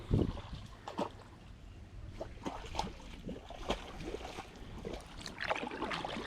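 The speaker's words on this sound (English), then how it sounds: "Kayaking with Ginger, my golden retriever." A kayak paddles across water in Vietnam with a golden retriever aboard, giving faint, irregular splashes and dripping strokes over low ambient noise.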